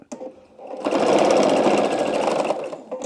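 A sewing machine stitches quilt binding. After a short pause the motor starts, then runs in a fast, steady, close whirring burst for about two seconds before it stops.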